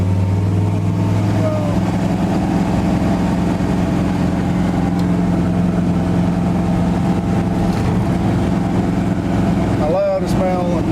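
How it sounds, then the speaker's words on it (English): A 1970 GMC truck with a new exhaust and four-barrel carburetor drives along, a loud steady low engine drone filling the cab, with faint talk over it. "But I'm pretty pleased with the sound on her."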